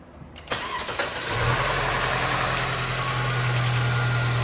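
A Mercedes-Benz car engine cranks briefly and catches, then settles into a steady, close, even idle hum with no voices over it.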